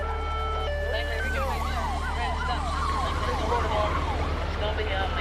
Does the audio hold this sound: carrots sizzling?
no